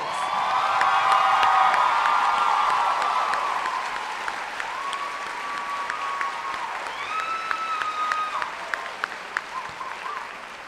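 A crowd claps steadily at a graduation commencement ceremony, loud and sustained, with scattered cheers and whoops rising and fading over about ten seconds.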